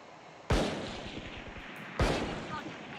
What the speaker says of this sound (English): I've started shooting my grenades now,